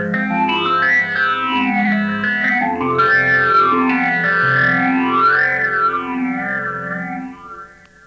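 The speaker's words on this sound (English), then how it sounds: "Kind of underwatery sound. It's actually quite nice if you have a little echo on" An electric guitar sustains chords through a TC phaser pedal, producing a loud, continuous swirling, watery sweep that rises and falls in slow waves for several seconds before fading.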